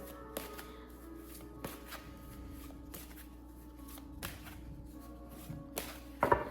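Oracle cards are shuffled by hand in a series of soft riffling and tapping bursts with short pauses between them, close by against a quiet room hum, with no speech.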